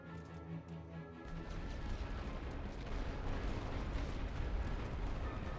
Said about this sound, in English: Use my artillery here to hit these guys.